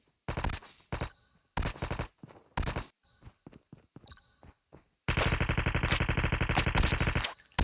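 Automatic gunfire in the mobile shooter Call of Duty Mobile during a battle royale match: short separate bursts of rapid shots, then a long sustained stream of fire toward the end, loud and close.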